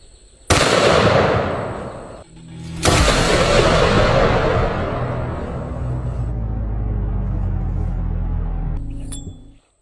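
Two thunderous blasts from a huge 4-bore rifle firing a 900-grain bullet outdoors, the second boom rolling into a long rumbling echo that fades over several seconds.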